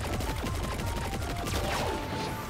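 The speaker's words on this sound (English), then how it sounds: "this is my first ever machine gun" A sci-fi machine gun in a video game fires a dense, continuous burst of rapid shots, loud and close, with sharp metallic sweeps of game effects layered over the fire and no talking.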